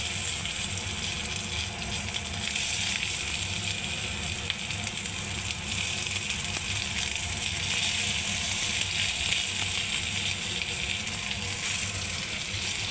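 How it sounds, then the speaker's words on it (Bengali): Raw green mangoes tipped into a hot pan with dried chillies give off a continuous, even hiss of sizzling oil, close and steady for the whole stretch with no speech over it. "এবারে আমি এই আমগুলোকে ঢেলে দিচ্ছি এর মধ্যে।"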